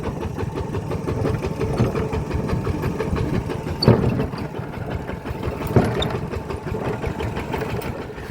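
An engine-driven pump drawing groundwater from a well in the middle of a rice field runs with a steady, droning mechanical chug, continuous and moderately close, with a couple of brief clanks partway through and no talking.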